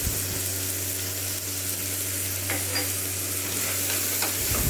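Onion and tomato sauté in a pan for a Tamil rice-and-lentil dish, a loud, steady sizzle with frequent stirring scrapes close by and a constant low hum underneath, and no one speaking.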